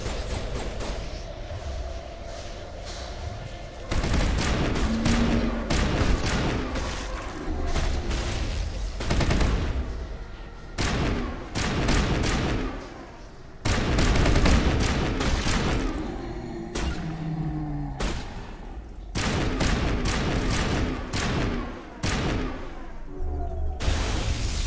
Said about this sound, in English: What is shooting at me? Oh, it's Rex. Finally using the shotgun I told him to use.